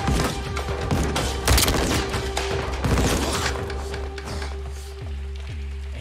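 Gunfire in the video game Modern Warfare 2, a dense sustained volley of shots and booms that thins into a few separate heavy reports near the end, loud and close with no talking.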